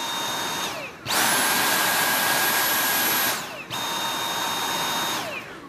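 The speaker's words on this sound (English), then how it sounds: "you can hear the difference in sound as the motor speeds up" Dyson V8 Total Clean cordless stick vacuum running at maximum power, a loud high-pitched motor whine that cuts off twice and spins back up each time, heard alone and close.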